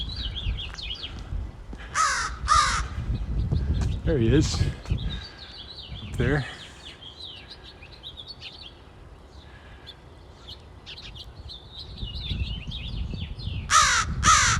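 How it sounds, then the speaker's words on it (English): Several harsh crow caws ring out overhead at intervals, some in quick pairs, with a person speaking briefly and outdoor background noise, on a street walk in Regina. "Been hearing a lot of crows on these walks."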